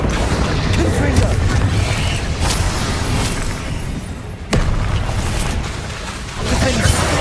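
Spell blasts in Hogwarts Legacy thud and crack repeatedly through dense combat noise, with sharp explosive hits standing out among continuous rumbling effects and shouted spell incantations.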